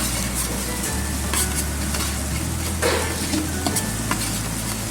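Green chilies stirred into frying masala with garlic, with a steady oily sizzle and scraping spoon strokes against the pan for about five seconds and no talk.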